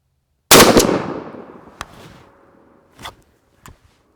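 A shotgun fires a 3 1/2 inch 18-pellet buckshot load through a factory full choke: one loud, sharp blast that rings and decays for about a second. Fainter cracks follow, likely echoes or distant shots.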